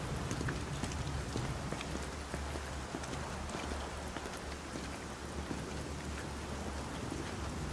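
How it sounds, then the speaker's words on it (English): Steady rain pours down in the video game Metal Gear Solid V: Ground Zeroes, with dense pattering drops and a low rumbling undertone, continuous and fairly close, no voices. "You can tell it's raining."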